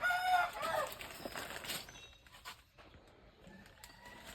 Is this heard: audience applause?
no